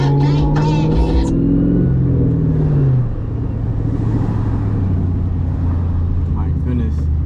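A car being driven hard through streets in Mexico, engine droning and revving steadily with road rumble throughout, loud and close from inside the vehicle, with brief higher noises near the start and end.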